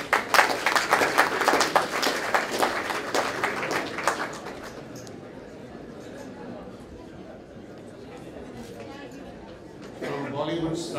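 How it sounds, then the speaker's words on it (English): Audience applause at a charity dinner in a large hall, dense clapping and crowd noise for the first few seconds that fades into a low murmur of chatter. "I think they need an applause."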